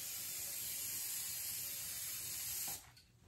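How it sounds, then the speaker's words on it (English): Cooking spray hisses from a can across the inside of a bread pan in one long continuous close spray, which cuts off abruptly near the end, with no talk. "Now I'm going to take my cooking spray and I'm going to spray the whole inside of my pan."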